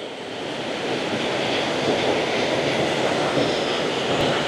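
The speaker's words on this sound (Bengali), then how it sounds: "আর এইদিকে পুরো মানওয়া ফল, মানওয়া ওয়াটারফল।" Manwa waterfall pouring down, a loud, dense, continuous roar of falling water that stays steady and broad throughout with no breaks.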